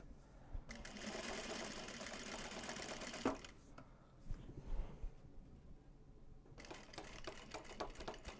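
Sewing machine backstitching a crossover seam on Japanese fabric large box bags, running in steady rapid bursts with brief pauses between stitching runs, close and fairly loud.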